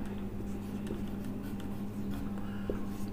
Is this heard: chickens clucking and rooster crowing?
no